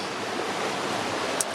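Steady broadband rush of a river flowing close by while walking down to its bank, an even, unbroken wash of water with one brief small knock near the end.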